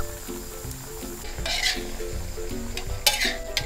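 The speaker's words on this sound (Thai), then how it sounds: "ผัดให้น้ำตาลละลายก่อนซีอิ๊วดำไว้ใส่ทีหลังนะคะ" Pork and sugar stir-fried in a pan for a Thai rice dish, a steady sizzle broken by scraping strokes of the spatula, with sharper clinks of metal on the pan near the end.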